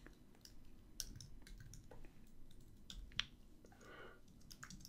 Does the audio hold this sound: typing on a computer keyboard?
yes